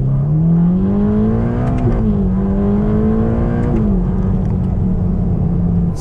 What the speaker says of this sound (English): See the engine, you can hear it. There's a lot of noise there.